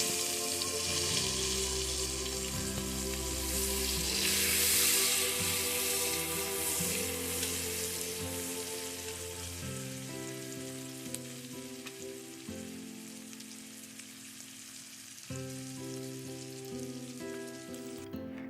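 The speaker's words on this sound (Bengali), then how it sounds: "পেঁয়াজগুলো আমি ভালো করে ভেজে নিচ্ছি" Sliced onions fry steadily in hot oil in a pan for a Bengali fish curry, a continuous close sizzle with a humming tone underneath and no talking.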